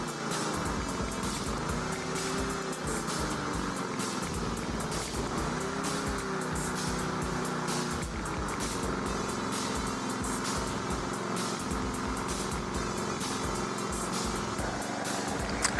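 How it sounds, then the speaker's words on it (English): A Challenge Xtreme SV150 petrol lawnmower engine runs steadily and loudly up close, its pitch rising and falling slightly as it revs, with rattly mechanical noise throughout. "The engine running."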